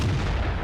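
A tank cannon firing in World of Tanks, a T-34-85 battle, as a single loud, booming blast that fills the short moment with broad rumbling energy and no voices.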